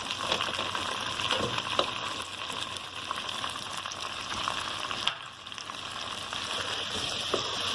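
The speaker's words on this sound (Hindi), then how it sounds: "ज़रा सा मैं इसको सौते करूँगी।" Chicken shashlik pieces sautéing in a pan, a steady bright sizzle and hiss of frying with occasional stirring scrapes, moderately close and continuous without talk.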